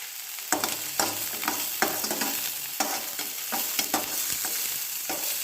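Chopped ginger frying in a pan with very little oil, a continuous sizzle broken by repeated scraping stirs at an irregular rhythm, close up and without talk.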